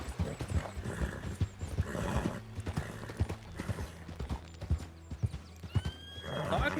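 In a Wild West roleplay video game, a horse's hooves clip-clop in irregular beats while it neighs and whinnies, with faint voices murmuring underneath and a louder whinny rising near the end.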